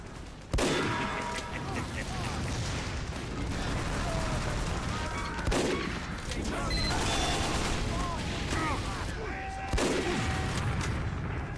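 Sniper rifle shots ring out in a video game firefight, sharp loud cracks at intervals over dense battle noise with bursts of gunfire and booms throughout.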